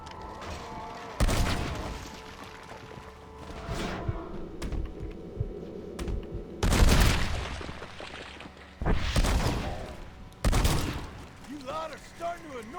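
Shotgun fire in the Red Dead video game, a handful of loud, sharp blasts at irregular intervals with booming tails, between quieter stretches with a voice and game sounds.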